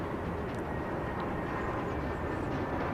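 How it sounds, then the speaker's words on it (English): A NetJets Bombardier Challenger 650 business jet, inbound from Midland, Texas, roars at night near Dallas. The jet noise is a loud, broad, unbroken rumble heard alone. "This plane coming in from Midland, Texas is a Net Jet Bombardier Challenger 650"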